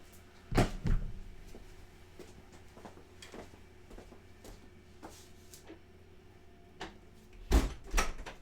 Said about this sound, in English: If you pardon me a minute, I'll just close the door there.